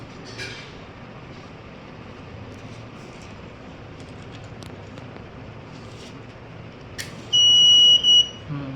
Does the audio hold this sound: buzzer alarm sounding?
yes